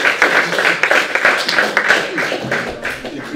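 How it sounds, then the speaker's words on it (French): Applause from a French lecture audience honouring a speaker, a dense patter of many hands clapping steadily close by for a few seconds, with a brief voice near the end. "je vous invite d'abord à applaudir."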